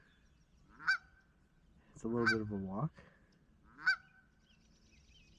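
A goose honking loudly outdoors near a quiet sitting spot by a back parking lot: three sharp single honks spaced apart with a longer, harsher honking call between them, as a person talks briefly.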